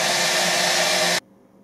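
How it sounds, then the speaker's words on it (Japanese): Hair dryer fitted with a clear vinyl hose on its nozzle, blowing a loud, steady broadband rush of air that stops abruptly after about a second, leaving only faint background. "ドライヤーの先に透明なビニールホースをつけてみました。"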